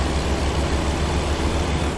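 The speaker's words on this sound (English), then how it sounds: "It does sound like I'm gunning this engine." A heavy truck engine in the video game American Truck Simulator drones steadily at low pitch, loud and constant, with a rumbling throb and no voices.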